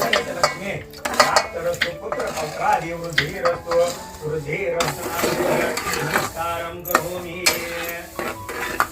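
Roasted semolina being stirred into hot ghee in a pan for prasad, with continuous scraping and clinking of a spoon against metal and a faint sizzle, a voice talking underneath.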